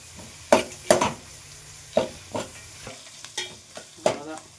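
Onions and mint sautéing in a pan for veg biryani sizzle steadily while a spoon stirs and scrapes the pan in irregular strokes, close and without talk.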